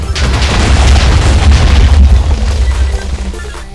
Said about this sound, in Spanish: Fuegos artificiales, ¿en serio? Sí, fuegos artificiales.